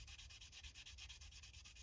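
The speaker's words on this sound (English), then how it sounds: "get my surface a little moist, and just start sanding" Rhythmic back-and-forth rubbing of a sanding pad on a damp varnished surface, a soft steady scraping close up with light pressure, repeated strokes with no voices.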